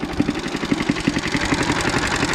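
A motorcycle engine idles close by in a steady, lumpy rhythm of low putters with a faint mechanical clatter, heard alone and without any talk.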